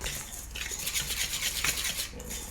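A utensil stirs and scrapes cornstarch batter for a crepe cake around a bowl, with steady close clinks and rubbing against the sides and no talking.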